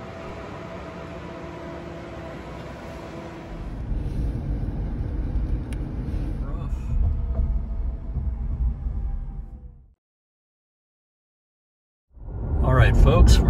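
A Chevrolet Bolt EUV electric car climbing a mountain road, heard from inside as a steady rumble of road and cabin noise that grows heavier, drops out briefly near the end, then returns.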